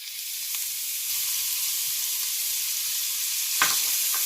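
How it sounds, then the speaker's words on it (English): Onions sizzle in about three tablespoons of vegetable oil over lower-than-medium heat, a steady hissing crackle close by, with a single short clatter near the end. "I'm going to put in my vegetable oil. This is about 3 tablespoons. And I'm going to add my onions"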